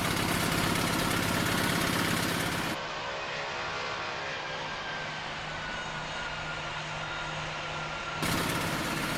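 Steady jet engine roar heard inside the cabin of a Ryanair airliner flying from Cyprus to Manchester, a continuous loud drone that drops to a softer, muffled hum midway before rising again.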